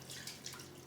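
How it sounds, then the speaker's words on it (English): Turkey broth pours over vegetables including celery, cauliflower and garlic in a canning jar, a soft, continuous watery trickle and splash, faint and close, with no talking. "I'm just going to pour this turkey broth"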